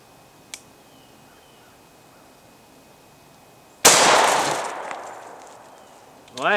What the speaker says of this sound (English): we're gonna shoot this today per IWBA protocol in the gel, and it is the compressed number 12 shot